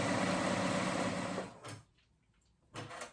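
A sewing machine stitches a waistband on paperbag pants, running in a loud steady whir for over a second, pausing, then starting again in a short burst.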